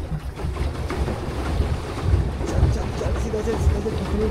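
Boat moving across Manoli dam lake, a steady rumble of water and hull with strong wind buffeting the microphone, continuous and close throughout with no clear talk.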